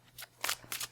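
Tarot cards being shuffled by hand, three quick soft riffling bursts in a row, close and quiet.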